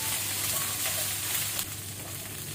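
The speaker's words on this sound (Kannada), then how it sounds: "ಇದನ್ನೀಗ ಒಳ್ಳೆ ರೀತಿ ಫ್ರೈ ಮಾಡ್ಕೊಳ್ಳೋಣ ನಾವು" Sliced onions and curry leaves fry in hot oil in a pan for chicken uppu kari, giving a continuous, even sizzle with no talking.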